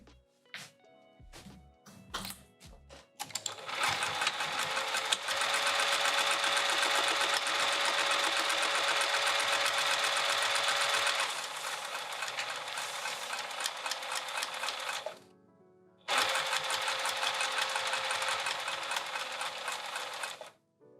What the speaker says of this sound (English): Let's sew this on.